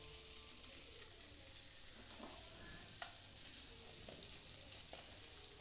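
Quiet, continuous sizzling of spices frying in a pan for rasam, with a few faint stirring clinks and scrapes, no voices.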